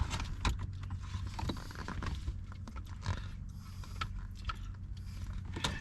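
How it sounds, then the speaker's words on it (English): A small Phillips screwdriver drives a unit back into place on a 2023+ Nissan Z during a starter button swap, heard as close, faint ratcheting clicks and small mechanical rattles with soft handling knocks. No one speaks. "screw the unit back in."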